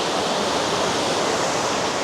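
A waterfall in South Tennessee roars as a steady, loud, broadband rush of falling water, heard close and unbroken, with no voices.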